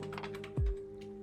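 Typing on an iMac keyboard: a quick run of soft key clicks over a steady electrical hum, with one deeper thump midway, close and moderately quiet, no talking.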